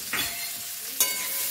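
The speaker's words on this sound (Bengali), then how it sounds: "গাজর আর বিনসটা আমি একসঙ্গে দিয়ে দেবো ফ্রাই করে নেবো" Carrots and beans fry together in a pan, a soft steady sizzle with two brief stirring scrapes, close and unaccompanied by speech.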